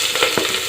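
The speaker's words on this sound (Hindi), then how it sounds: "और इसे अच्छे से भूनें।" Onions frying in a pan with cumin, bay leaf, asafoetida and green chilli, a continuous close sizzle with a few stirring scrapes, no talking.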